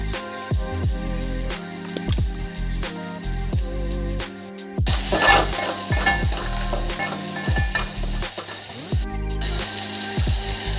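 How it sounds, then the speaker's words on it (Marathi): Ground masala paste fries in oil in a pot for a fish curry, with a sizzling hiss broken by repeated clattering stirs and scrapes, and a strong, steady low tonal layer underneath. "सगळा बारीक केलेला मसाला आपला ते तेलामध्ये टाकून छान असा भाजून घ्यायचा आहे"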